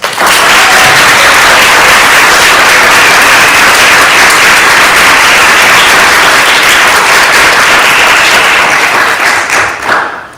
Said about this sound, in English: Please give our new initiates a round of applause.